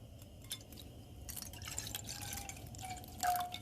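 Water trickles and drips into a pan for making tea, soft and close in a quiet kitchen, with a few brighter splashing bursts and a rising pitch as it fills.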